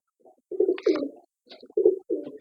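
Soft, throaty pigeon coos in two short bursts with a pause between, close by and fairly clear, with no talking.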